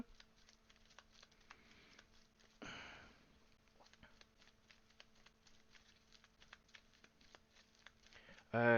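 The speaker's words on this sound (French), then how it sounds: "Fait qu'il faut que je rebrasse." A deck of Marvel Champions cards is shuffled by hand in a quiet room, with soft repeated riffling patter and one brief louder burst, plus a faint voice near the end.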